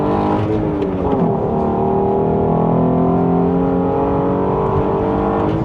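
A Hyundai 3.8-litre Lambda V6 pulls hard and steadily under acceleration, a loud continuous growl with rising harmonics, heard from inside the car.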